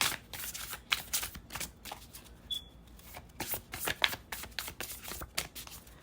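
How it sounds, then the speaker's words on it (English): A deck of tarot cards is shuffled by hand, quietly and close up, in a run of crisp riffling and soft slapping bursts that repeat unevenly, with no talking. "Let's shuffle."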